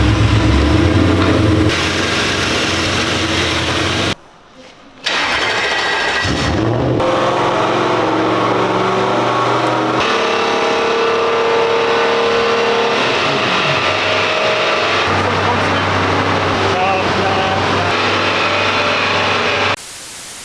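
A drift car's engine revs hard on a dynamometer, a loud sustained roar rising and falling through repeated throttle pushes, cutting out briefly once before climbing again, with heavy mechanical and exhaust noise throughout.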